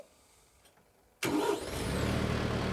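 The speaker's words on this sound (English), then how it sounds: "Start your tractor again." A tractor fitted with a BL15SL loader cranks briefly and its engine catches abruptly, settling into a loud, close, steady idle with no voices.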